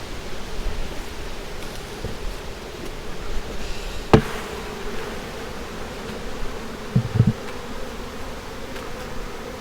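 Honeybees hum steadily around a colony box in the evening, a dense, even buzz close to the microphone, with a few brief knocks and rustles partway through.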